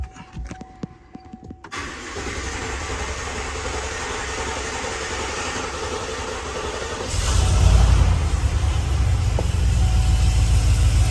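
Diesel pickup truck with a newly installed high-performance fuel pump and fresh tune cranks briefly, catches and settles into a steady, loud idle; the idle deepens and grows heavier partway through, heard close with no talk.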